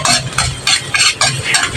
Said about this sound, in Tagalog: dito rin po ako magpiprito sa pinagpirituhan ko ng saging